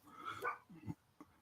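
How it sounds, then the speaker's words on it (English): A pit bull barks a few short, sharp times at close range, the barks broken by brief whiny yips and quiet gaps. "This dog is wild right there. That's my dog."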